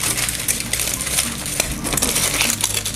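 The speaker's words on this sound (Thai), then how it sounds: "ผมขอใช้ฟอยล์ห่ออย่างนี้แล้วกันเนาะ" Aluminium foil wraps around a sweet potato, a loud continuous crinkling and crumpling close by with sharp crackles, no voices.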